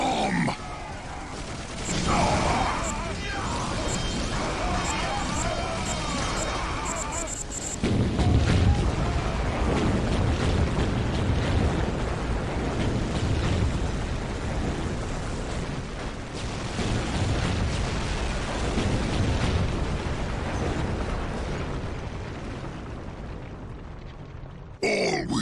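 Repeated heavy booms and blasts from bombs and explosives in the Dawn of War Dark Crusade strategy game, a dense continuous rumble of detonations and battle noise lasting throughout, with grunting voices mixed in.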